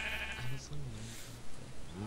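Sheep in the Minecraft game let out short, low bleats in a quick run of three or four calls, fairly close and clear over a faint background hum.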